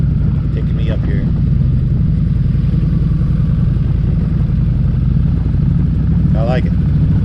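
A vehicle engine pulls in third gear with a steady, loud, low torquey chug and constant rumble, close up for the whole stretch.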